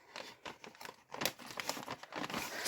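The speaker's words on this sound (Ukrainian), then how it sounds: "І ось у нас перший пакет. І ми його розпаковуємо." Plastic bag from a Minecraft building set being torn open and unwrapped, with close, irregular crinkling and crackling bursts and sharp tearing rustles throughout, no talk.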